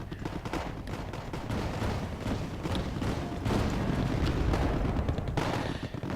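Bolt action rifles firing in a Wargame Airland Battle skirmish, a dense rumbling mix of repeated shots and battle noise that keeps up loudly throughout, no clear talking.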